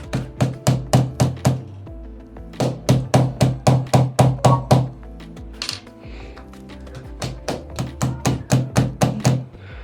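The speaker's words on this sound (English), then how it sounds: "I'll be using this nail and the screen as the hammer to see if it will break" A nail is struck again and again with the screen of an Honor X9C 5G phone, hard sharp taps in quick rhythmic runs of about eight blows each, close and loud, with brief pauses between the runs.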